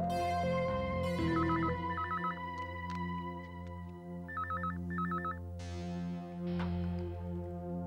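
A repeating electronic trill rings in short bursts over a steady musical background, like a phone ringing, with no voices.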